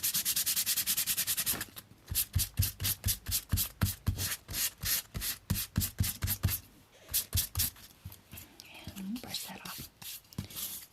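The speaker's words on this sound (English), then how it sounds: "So we'll just give it a light sanding." Rhythmic back-and-forth strokes of sandpaper rubbing on birch wood, steady and close, with a brief continuous scrape at the start and a soft voice near the end.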